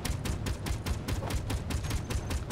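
Rapid automatic gunfire in the sci-fi building game Space Engineers, a steady stream of loud, closely spaced shots in an even rhythm with no pauses.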